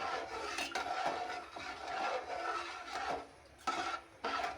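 A spoon stirs chicken khichuri in a pot, a steady soft scraping and rubbing against the pot bottom, continuous and close with a few sharper strokes.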